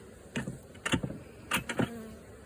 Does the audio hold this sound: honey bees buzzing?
yes